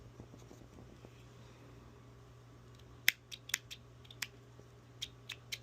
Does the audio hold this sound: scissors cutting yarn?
yes